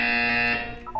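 A buzzer from the video game Portal 2 sounds as a loud, steady electronic tone with bright harmonics, fading slightly toward the end of one brief blast.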